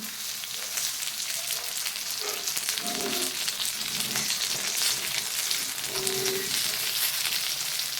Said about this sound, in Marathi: आता एका बाजूने पाच मिनिट हे मासे भाजून झाल्यानंतर पुन्हा आपण या माश्यावर असे उलटण्यावर तेल घेऊन घालायचे आहे